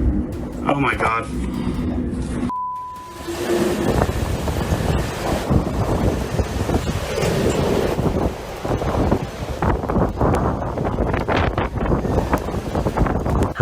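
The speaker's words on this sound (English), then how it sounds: "Hurricane Ian slammed into North Carolina with brutal force, sending massive waves crashing over docks" Hurricane Ian surf breaking over docks in North Carolina, a continuous roar of waves and gusting wind buffeting the microphone, with narration over it.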